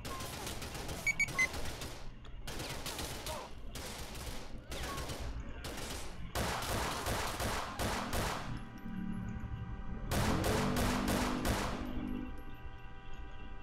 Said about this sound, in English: oh shit, shots fired